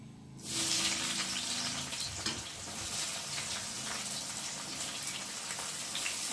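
Chopped onions hit hot oil with bay leaf, starting a sudden bright sizzle after a brief quiet moment that then continues steadily at moderate loudness, with occasional soft stirring scrapes.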